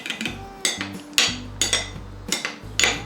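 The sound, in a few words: stirring olive oil into sea bean salad with a spoon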